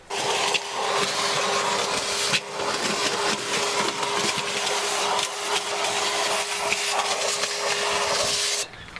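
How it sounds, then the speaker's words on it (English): A loud, steady whirring drill with a wire brush scrubs rust off the metal of a Ford Transit van, a harsh, gritty scrubbing hiss running almost nonstop, briefly pausing once, close up. "wire brush on a drill."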